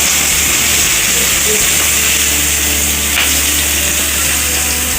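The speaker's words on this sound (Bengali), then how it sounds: "এবার ওই তেলেই আলু ভেজে নেব।" Potato pieces fry in hot oil left over from frying fish, with turmeric and salt added, giving a loud continuous sizzle and crackle, close up and steady throughout, no voices.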